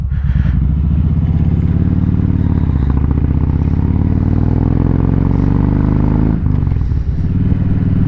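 A Kawasaki Vulcan Voyager motorcycle with newly fitted Sharkroad exhaust mufflers and a K&N air filter rumbles loud and close, a deep steady engine drone that rises in pitch as it accelerates, then dips briefly near the end before pulling again.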